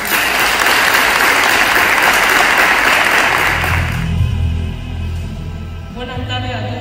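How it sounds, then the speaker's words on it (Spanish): Audience at a school graduation and banding ceremony for 4º ESO and FPB students claps loudly and steadily for about four seconds, then the applause fades out under a low hum and some faint voices. "Un aplauso por todos nosotros."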